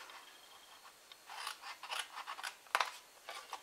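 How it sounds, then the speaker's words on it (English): Scissors snipping through card for a large gift box card, a quiet close run of short crisp cuts and rubbing sounds with one sharper snip near the end. "The next one we're going to cut down and cut that in half."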